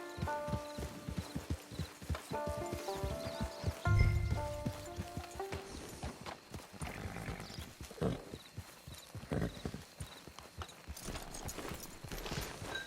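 Horse hooves clip-clop in a steady rhythm in the video game Red Dead Redemption 2, close and clear over soft game music and ambience, with a brief louder thump partway through.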